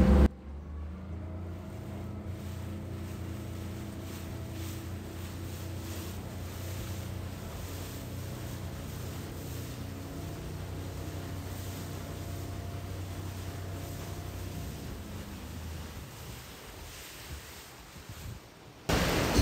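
A harbour tour boat cruises on the Norderelbe in Hamburg, its engine a steady low drone with wind and water wash over it, close and continuous for most of the clip.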